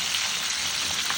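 Meat frying in a pan for a roast dish, giving a continuous bright sizzle that holds steady and fairly close throughout.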